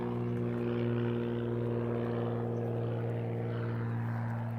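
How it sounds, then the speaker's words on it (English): A propeller airplane drones overhead with a steady, loud engine hum and strong tonal whine that holds level for the whole stretch, without any talking. "there's a plane"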